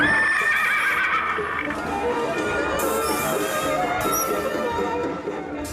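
A horse named Rusty, a mechanical horse at an outdoor festival, lets out a loud, sustained neigh and whinny with hoof clip-clops mixed in, over steady background crowd ambience.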